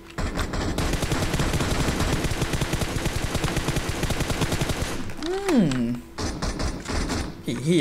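Rapid automatic gunfire rattles almost nonstop for about four seconds in a PUBG Mobile match. It is followed by a pause, a rising whoosh and scattered shots. Loud shouting in Thai sits over the end.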